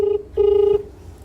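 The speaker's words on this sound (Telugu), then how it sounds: "ఇంకో నెంబర్ ఫోన్ చేస్తున్నా" A phone line sounds while another number is dialed: a steady mid-pitched electronic tone comes in two bursts, a short one and then a longer one, with quiet background between them.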